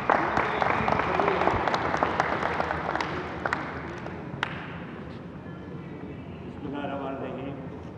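A crowd applauds loudly at the opening ceremony of an inter-provincial gymnastics championship in Pakistan; the dense clapping fades after about five seconds as a voice speaks over it.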